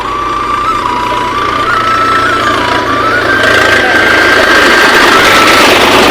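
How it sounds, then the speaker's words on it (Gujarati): A tractor engine rumbles and drones loudly on a village road, growing nearer and heavier partway through, with a thin whine riding over the steady mechanical noise. "સામેથી ટ્રેક્ટર આવે છે"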